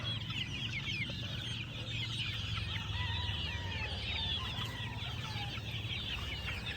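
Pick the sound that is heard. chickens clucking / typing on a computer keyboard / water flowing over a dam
chickens clucking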